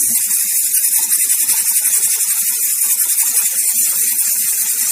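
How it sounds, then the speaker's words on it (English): Continuous loud hiss of steam escaping, bright and steady, with a faint rattling flutter underneath, like a pressure cooker venting before its whistle. "So I think the whistle is going to come now."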